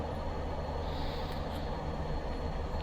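Class 205 diesel train running in Train Simulator Classic between Brockenhurst and Salisbury, a steady, loud rumbling engine drone with rolling wheel noise inside the cab, continuous and without talk.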